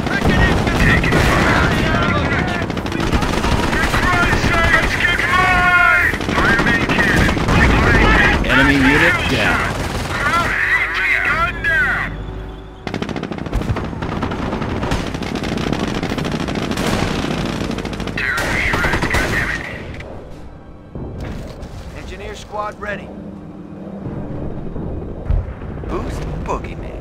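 Battle sounds from the World War II strategy game Company of Heroes, set in the Normandy invasion: rapid machine-gun bursts, gunshots and booming cannon fire, loud and dense, with soldiers' voices calling out between the shots.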